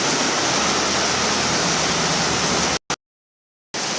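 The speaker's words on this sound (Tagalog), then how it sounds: "Malakas ang ulan." Loud, dense hiss of heavy rain pours steadily, broken by a brief dropout into silence for almost a second before resuming.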